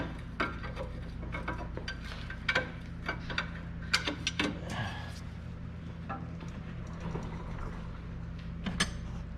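A wrench tightens a nut on the lower control arm of a 2006 Suzuki Grand Vitara, giving scattered quiet metallic ratchet clicks and taps against a low background hum.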